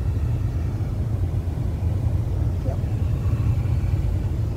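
A 2004 Toyota Sienna engine idles steadily during a test after thermostat housing replacement, a loud continuous low rumble heard up close with no break.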